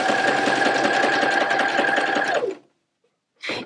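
A sewing machine stitches appliqué in a fast, steady whirring run for about two and a half seconds, then stops; after a short silence comes a brief burst of another noise.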